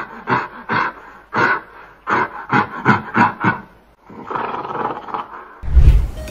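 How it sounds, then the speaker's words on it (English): A gorilla gives a run of deep, breathy roars and grunts, about eight rhythmic bursts close to the listener, then a drawn-out rumbling call and a heavy, low final roar. "Gorillas roar, grunt, chuckle, belch,"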